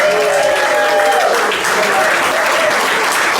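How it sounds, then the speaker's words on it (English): A live audience at a comedy show claps for prize winners, a dense, loud burst of applause filling the room, with voices talking over it. "Give them a round of applause, you guys."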